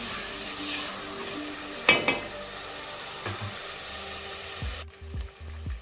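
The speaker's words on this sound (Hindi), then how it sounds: "इसको मैं भून लूँगी टमाटर ताकि गल जाएं अच्छे से।" Tomatoes fry in a pan with red chilli and turmeric, a steady close sizzle with a couple of sharp spatula stirs and clinks near the end, no talking.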